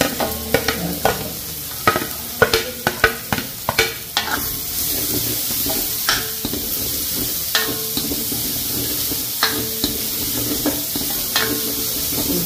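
Ginger garlic paste frying in hot oil in a pan, a continuous loud sizzle broken by sharp scraping stir strokes, rapid at first and then more spaced out.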